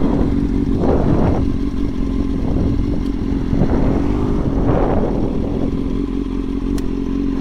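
A motorcycle with a new exhaust rumbles and revs loudly up close, with surges of throttle rising over a deep steady idle and some clattering, no talking.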